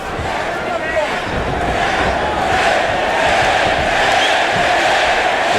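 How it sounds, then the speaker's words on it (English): An arena crowd at a UFC 149 mixed martial arts bout chants a fighter's name in a loud, continuous roar that fills the space throughout. "the crowd chanting his name"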